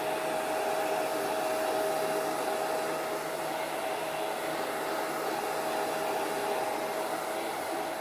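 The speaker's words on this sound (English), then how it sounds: "Now I can easily just use the blow dryer. Gently blow until the paint is dry." A hair blow dryer runs steadily and loudly for the whole stretch, drying paint on a DIY farmhouse bunny cutting board, with a constant whooshing airflow and a faint whining motor tone and no voices.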